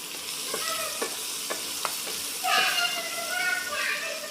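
Finely chopped coconut frying in tempering oil, a gentle steady sizzle under light stirring, with a spoon tapping the pan at regular intervals before a brief louder hiss of steam rises.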